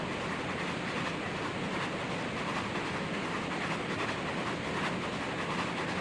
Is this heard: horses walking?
no